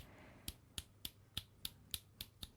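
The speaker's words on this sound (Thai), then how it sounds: "พูดจากด้านหน้าดีดนิ้วด้านหลัง" Finger snaps made behind a FIFINE A8 microphone: nine sharp, evenly spaced snaps about a third of a second apart, fairly faint and off-axis against a quiet room with low hum.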